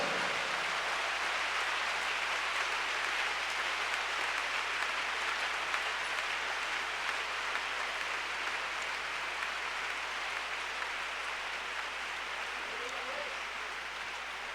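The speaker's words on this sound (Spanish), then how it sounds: "¿Y usted por qué no le da un aplauso al dueño de esta iglesia?" A church convention congregation in Cali applauds in a long, steady roar, a dense hiss of many hands that holds evenly and fades slightly near the end.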